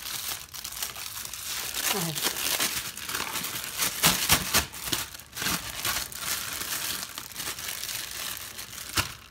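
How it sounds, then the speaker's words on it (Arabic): Bread dough for whole-wheat toast placed into a plastic freezer bag, with loud close crinkling and rustling of the plastic in bursts throughout, a brief spoken word in between. "هحطها في كيس تلاجه كده نضيف"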